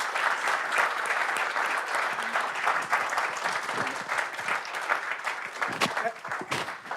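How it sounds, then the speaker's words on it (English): An audience applauds speakers at a tech talk on observability for distributed systems, a dense, steady clapping from a crowd that fills the whole stretch and tapers slightly toward the end. "how about one last round of applause for all three speakers?"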